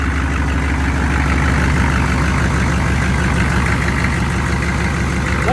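An old Chevy 6.5 diesel truck engine idles after sitting unused for five years, with a little blow-by: a loud, close, steady low rumble with a fast, even clatter running throughout.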